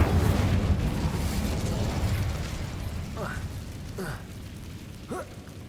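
A burst of fire from the Incendio spell cast in the Hogwarts Legacy video game: a loud, rushing, rumbling blast fills the first seconds, then fades into quieter whooshing with a few short rising chirps.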